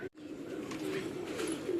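Purebred pigeons cooing, low, throaty coos rolling on continuously at close range after a brief cut at the start, with no talk.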